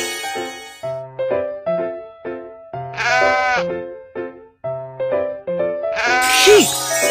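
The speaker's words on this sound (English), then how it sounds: "Sheep." Sheep bleating from a children's learning game: clear, wavering bleats rising twice over a bouncy tonal backing melody, loud and close.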